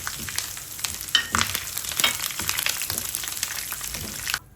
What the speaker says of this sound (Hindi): पकौड़ों वाले ऑयल में 1 टेबल स्पून कुटा अदरक, 7 साबुत खुश्क लाल मिर्चें, ज़ीरा 1 टीस्पून, ½ टीस्पून अजवाइन, करी पत्ते डालकर हल्का सा फ्राई करें।